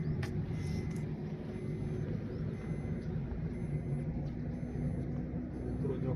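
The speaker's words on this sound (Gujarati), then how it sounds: "જો મિત્રો ગાડી અત્યારે ચડવા" A car engine labours up the steep hill road to Pavagadh, a steady low rumble heard from inside the vehicle, fairly faint and without talk.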